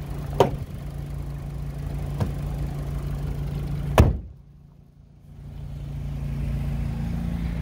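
A 2019 Volkswagen Jetta SEL idles with a steady low hum. A few sharp clicks ring out, then one loud slam of the hood, after which the engine sounds briefly muffled before the hum returns.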